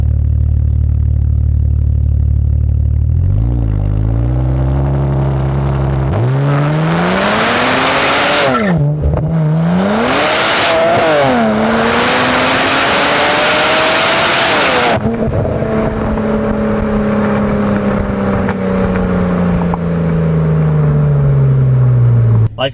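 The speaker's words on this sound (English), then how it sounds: "all I did was spin my tires in second gear" A car with traction control switched off spins its tires in second gear, the engine revving and rising in loud sweeps with sharp tire squeal and skidding bursts, close and continuous with no talk.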